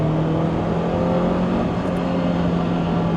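A Lotus Elise engine drones steadily under acceleration with a manual gearbox, a constant low hum with faint pitch rise heard from inside the small cabin, loud and continuous with road noise and no talk.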